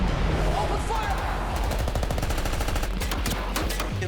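Rapid automatic gunfire rattles loudly and continuously in an action film scene, bursts of machine-gun shots layered over a dense roar with no voices.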